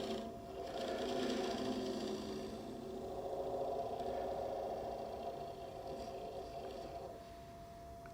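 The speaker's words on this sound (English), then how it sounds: "One more with the spindle gouge." Spindle gouge cutting a small wooden nut bowl spinning on a lathe, a steady droning hiss with a tonal hum that holds for several seconds before easing off.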